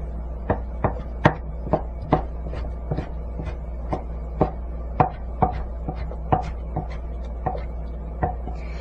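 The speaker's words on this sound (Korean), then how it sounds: "그 다음에 포를 떠서 표고는 호박과 같은 크기로 성형합니다." Knife chopping shiitake mushrooms into pieces sized to match zucchini on a cutting board: about twenty crisp, evenly spaced cuts near the mic over a steady low hum.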